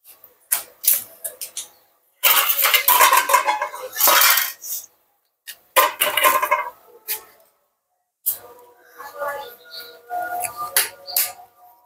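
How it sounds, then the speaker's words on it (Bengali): A spoon scrapes and clatters against a metal pot as meat is stirred and braised with spices, in irregular bursts of clinking and scraping separated by short pauses. "আর এদিকে মাংসটা কষানো হচ্ছে"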